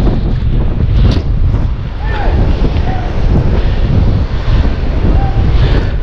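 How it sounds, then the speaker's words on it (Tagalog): Strong wind buffets the microphone out on the sea during bangus (milkfish) fishing, a loud, steady roar with crackling gusts and the wash of water and a boat beneath it for the whole stretch. "Ayan, hangin na naman."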